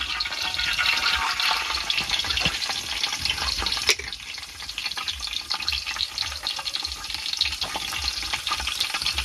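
Mustard seeds, cumin and bay leaf sizzling in hot oil in a village kitchen, a steady close crackle and hiss with a brief pop near the four-second mark, no voices over it.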